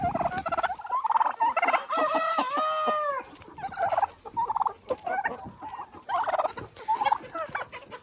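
Domestic turkeys on a home farm gobble in loud, close, repeated bursts of warbling calls, several birds overlapping with brief pauses between outbursts and no talking.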